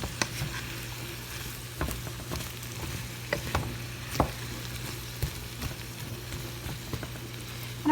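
Bacon frying in a pot as it is stirred, a quiet steady sizzle with a low hum underneath and scattered scraping and clinking of the spoon.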